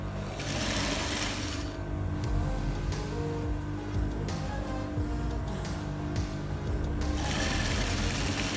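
A sewing machine joins the three pieces of a shirt back yoke, running continuously and loudly up close with a dense mechanical hum and slight shifts in speed.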